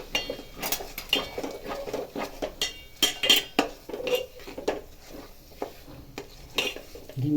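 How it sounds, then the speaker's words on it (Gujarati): Utensil scraping and clinking against a pan as jaggery is stirred while making Gujarati gundar ni ped, a winter sweet; repeated close metallic scrapes and taps in an irregular rhythm with no voices. "તો ગોળ એડ કરી હલાવતા જાઓ."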